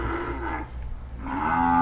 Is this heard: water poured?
no